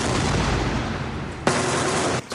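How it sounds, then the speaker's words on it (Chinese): Gunfire during heavy ground fighting among ruins in northern Gaza's Shati refugee camp: a loud, continuous crackle of shots with a sharp burst near the middle and another at the end. "只听见枪声四起，废墟中浓烟滚滚"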